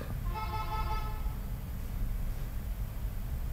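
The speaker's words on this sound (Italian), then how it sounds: "il clacson fuori dalla porta del mio ufficio" A car horn honks outside an office door, steady harmonic blasts over a rumbling low background, fading after about a second and a half and leaving traffic-like noise.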